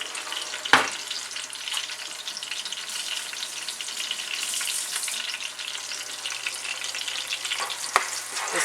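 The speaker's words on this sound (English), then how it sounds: "Now get a spoon and stir this." Vegetable soup sauce sizzling and frying in a pot, with a spoon stirring through it, a steady soft crackle throughout and a couple of sharp clinks of the spoon against the pot, no talking.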